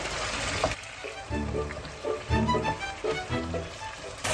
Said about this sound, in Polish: Dodajemy trochę wody z makaronu